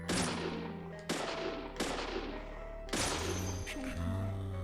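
Gunfire in the video game Deadly Premonition, a handful of sharp loud shots with ringing decays spaced about a second apart, over a low game background.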